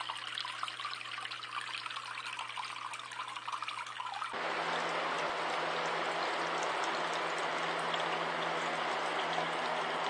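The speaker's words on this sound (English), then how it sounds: "You can see the water flow there." Water trickling and flowing through a homemade evaporative cooler against a wire lattice, a steady close splashing stream that starts softer and becomes louder and fuller partway through, with no talking.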